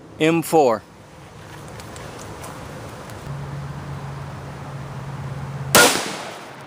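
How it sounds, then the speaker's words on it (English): An M4 firing Barnes TSX 70 grain rounds lets off a single sharp, loud report near the end, after a brief burst of talk and a stretch of low steady hum. "shooting it out of the M4"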